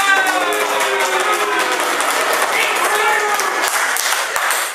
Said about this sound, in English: So give me a better round of applause.